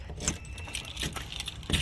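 A bunch of keys jangles and clinks in a few quick bursts while a studio door is being unlocked, close by and fairly quiet, with no talking.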